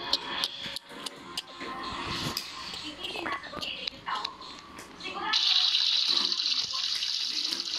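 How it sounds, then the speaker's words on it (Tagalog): Shower water in a Roblox game starts running with a sudden steady hiss after a stretch of clattering sounds and soft whispery speech, then continues evenly to the end. "Gumagana na shower ko ah!"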